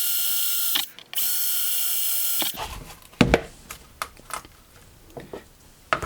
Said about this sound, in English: Then use a drill, simply drill your holes.